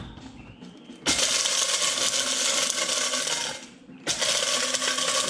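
An electric spice grinder whirs loudly as it grinds cardamom pods, a dense high whine starting about one second in, dipping briefly near four seconds and then resuming, with the hard pods rattling against the blade.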